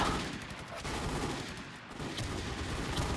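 Gunfire in a video game is heard as a continuous, loud barrage of rapid shots, with short bursts blending together throughout.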